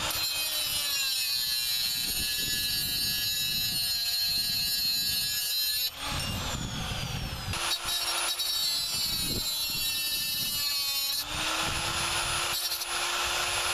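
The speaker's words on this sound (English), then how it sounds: "you can take a cutoff wheel and cut this off while it's on the car" Cutoff wheel grinding through a valve cover stud on a Honda engine, a loud, sustained high-pitched whine with shifting tones that briefly breaks and resumes as the cut continues.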